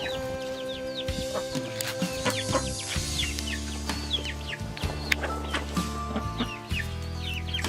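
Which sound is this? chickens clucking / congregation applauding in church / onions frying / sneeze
chickens clucking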